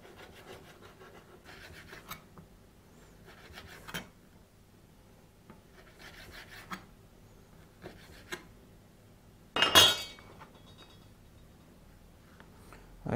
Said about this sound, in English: finished cutting up the bacon now